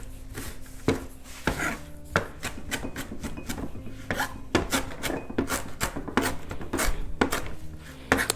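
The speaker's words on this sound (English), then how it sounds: "let's chop up this parsley" Knife chopping fresh parsley on a board: a run of sharp, close knocks in an uneven rhythm, some bursts quicker than others, with no talking.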